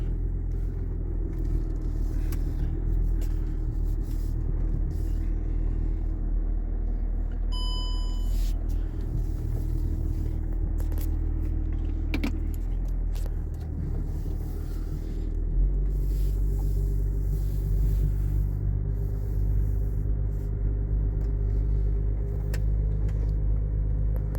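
A Range Rover Vogue 3.0 engine with about 471,000 km runs steadily with a low, continuous rumble throughout, close by, with a brief electronic beep early on.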